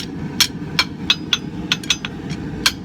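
Sharp hammer blows ring out on a small forged Viking axe pendant as it is tapered for length, about nine irregular strikes over a low steady background rumble.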